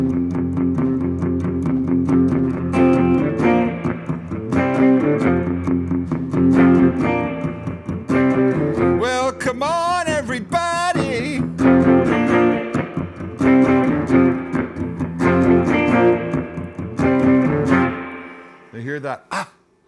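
A Gretsch Chet Atkins electric guitar plays a rockabilly riff drenched in reverb, loud and close, with bright note attacks and ringing, echoing sustain before it fades out.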